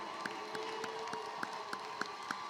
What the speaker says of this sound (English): Give them a round of applause, y'all.